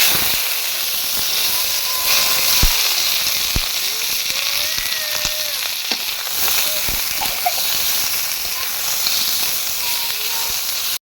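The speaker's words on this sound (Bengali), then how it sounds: "মরিচটা ভাজা হয়ে গেছে, এখন মাছটা ভেজে নেবে।" Fish frying in a pan with chillies already fried, a dense continuous sizzle and hiss with scattered pops and crackles filling the whole stretch, close and loud.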